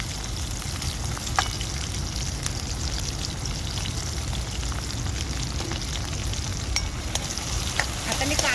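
Chopped onion and green chillies fry in a pan with a steady close sizzle and spattering crackles, occasional stirring ticks, no one speaking.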